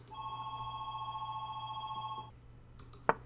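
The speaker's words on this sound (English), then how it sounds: "Oh, and that's the phone." A landline telephone bell rings in a steady electronic trill for about two seconds, then stops, followed by a quiet room and a single sharp click.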